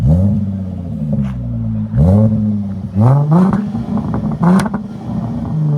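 A 2017 Jaguar F-Pace with a 3.0L supercharged V6 and Dynomax Bullets exhaust revs hard several times, each blip rising in pitch and dropping back, with crackling pops on the overrun, loud and close.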